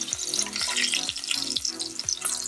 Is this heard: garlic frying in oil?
yes